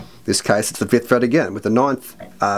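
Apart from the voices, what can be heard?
No everyday noise stands out behind the speech.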